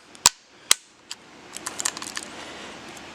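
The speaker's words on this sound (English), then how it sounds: "Shooting the Planet Eclipse CS2, board at 689 with some old midnight paint." A Planet Eclipse CS2 tournament paintball marker, tuned to about 689, firing old Midnight paint: two sharp, loud pops, a softer third, then a quick burst of faint, rapid cracks trailing off.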